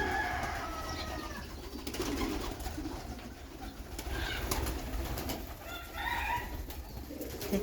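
Pigeons cooing close by, repeated throaty warbling coos rising and falling over a steady background hum, with occasional faint rustles and taps.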